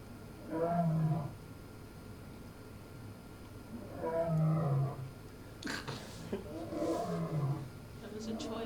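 A lion or tiger roar from a cartoon animation, several deep rumbling growls in a row with pauses between them, fairly loud over a faint background hiss.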